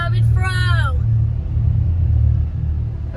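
A car rolls slowly through an old railroad tunnel, a deep enclosed rumble that stays steady and close, while a voice briefly speaks over it near the start.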